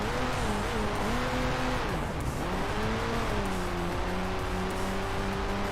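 A rally car in Rally Fusion, a Group B era racing game, slides through a tight right-left corner sequence, its engine droning and wavering steadily throughout with tire scrub underneath.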